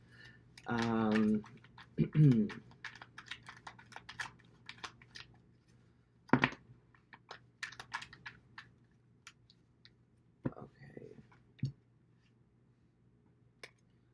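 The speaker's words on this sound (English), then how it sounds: "I'll just shuffle some more cards." Soft slapping and riffling of tarot cards being shuffled, with scattered light taps and clicks in a quiet room and a few brief bursts of louder rustling.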